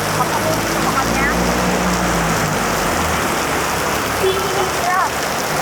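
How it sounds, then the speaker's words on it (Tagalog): Heavy rain pouring down outdoors, a loud dense continuous hiss and patter close around, with faint voices in the background. "Lakas ng ulan."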